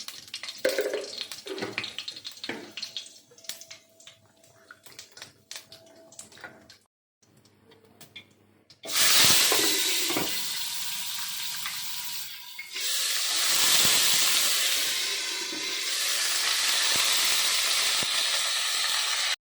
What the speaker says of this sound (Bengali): এবার আমি একটা তেজপাতা দিলাম, একটু জিরে ফোড়ন দিলাম